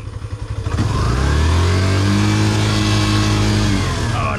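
A pickup truck engine cranks briefly, then catches and revs into a loud, sustained rumble, heard up close with no voices over it.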